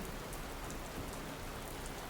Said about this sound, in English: I thought you'd be excited about the rain.